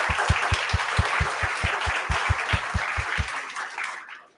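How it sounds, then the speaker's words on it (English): Audience at a networking research summit keynote applauds steadily, with a regular low thumping running through the clapping before it fades away near the end. "a round of applause for her"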